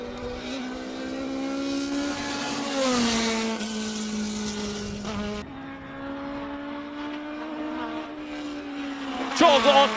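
A classic 1979 Mark 79A race car with a 2-litre four-cylinder engine, running on slicks, takes a chicane at a Cape Town speed event. Its engine holds a steady, buzzy drone, drops pitch briefly midway and climbs again, with a commentator talking over it.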